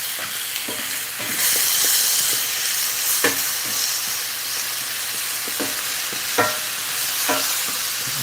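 Pico de gallo of fresh tomatoes, peppers and onion sizzles steadily in a hot pan while a spoon stirs it, with several sharp scraping knocks against the pan rising over the constant frying hiss.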